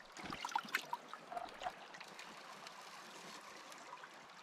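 Water trickles and gurgles through a sluice box set in a stream for gold prospecting, a few splashy bubbling bursts at first settling into a soft steady flow, faint and close.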